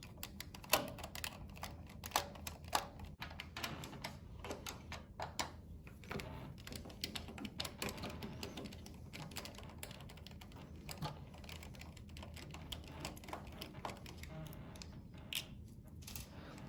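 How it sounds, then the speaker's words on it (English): Quarter-inch bolts come out of the shaft cap on a Garland griddle, making quiet, rapid clicking and ticking of a hand tool and small metal parts, steady and faint, with no voices. "We've now removed the bolts from the shaft cap."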